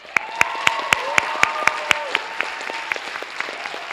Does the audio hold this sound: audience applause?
yes